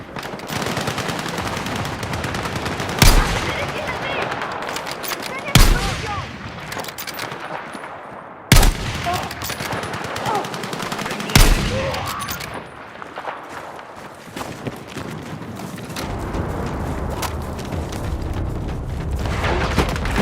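Battlefield 6 combat erupts with sustained automatic gunfire and several sharp heavy blasts, loud and close, while soldiers shout over the chaos.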